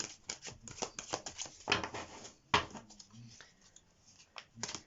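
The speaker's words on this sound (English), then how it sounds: "So let's shuffle the cards." Tarot cards are shuffled by hand in a series of quick riffling and tapping bursts, close and fairly soft, with short pauses between.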